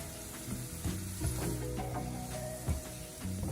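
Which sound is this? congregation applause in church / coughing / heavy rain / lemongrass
lemongrass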